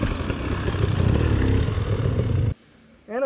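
A light 150 dirt bike climbs a steep trail, its rough engine revving and clattering close and loud for a couple of seconds before cutting out abruptly, followed by a short burst of a voice.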